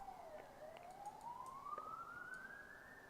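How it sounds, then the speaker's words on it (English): A police siren wailing outside, faint and distant, sweeping slowly upward in pitch over a quiet, hissy room background, with a few soft clicks scattered through. "You can probably hear the cop cars going outside"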